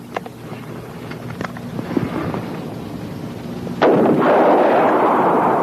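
A .357 jacketed hollow point round, a higher-velocity load, fires as one sharp, loud report that leaves a long, dense rumble trailing after it, with a few fainter clicks and knocks before the shot.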